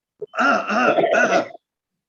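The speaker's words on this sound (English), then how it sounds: "Clear your throat that way." A single close, loud throat clearing during a yogic lung-purification breathing technique, a rough rasping rumble lasting about a second after a short initial catch.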